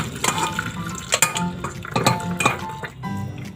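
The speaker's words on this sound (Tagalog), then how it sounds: "Ayan, gagawin natin i-drain lang natin yung tubig." Boiled mung beans being drained of their cooking water in a home kitchen, with a run of close, bright clinks and knocks of a pot and utensils over a soft trickle of water, no talking.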